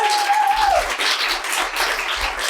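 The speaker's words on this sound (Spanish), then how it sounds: "Un aplauso que se os oiga," Studio audience of roughly ninety people at a book-talk show applauding, a dense continuous wash of clapping with a short voice over the opening moment.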